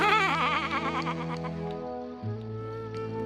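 A single drawn-out cartoon sheep bleat, loud and close, wavering at first and then dropping to a lower, steadier tone.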